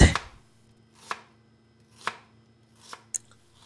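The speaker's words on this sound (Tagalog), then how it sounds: "Saka may kamatis din, hiwain natin to ng maliliit." A knife chops tomatoes into small pieces on a board, four distinct sharp cuts spaced about a second apart, close and clear with quiet between strokes.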